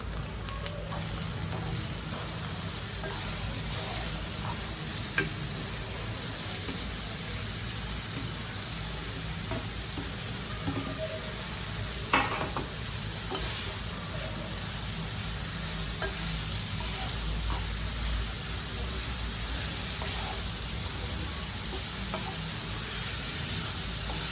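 Garlic frying in a pan before chopped onion is added, a long, even, crackling sizzle with a couple of faint knocks of utensils, steady and close throughout.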